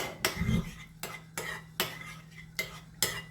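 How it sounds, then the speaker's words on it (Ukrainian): A spoon stirs a mixture in a bowl after a pinch of Adyghe salt goes in for stuffed potatoes, giving six or seven sharp clinks against the dish at a steady pace, close and clear, with no voices. "І все гарно перемішую."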